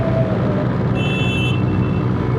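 Motorcycles rolling slowly in a crowded protest ride of bikers against roadworthy testing in Charente, France, on a dual carriageway toward the RN 141: a steady close engine rumble with road noise throughout and a brief high whine in the middle.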